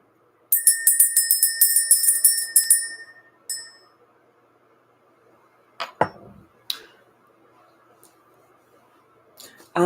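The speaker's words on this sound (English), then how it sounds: "Let's go ahead and ring the bell." A bell is rung in a rapid run of about a dozen bright metallic strikes that decay into a shimmering ring, followed by a single softer strike, then a few scattered knocks and clatters over a quiet background.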